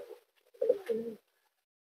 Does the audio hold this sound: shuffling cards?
no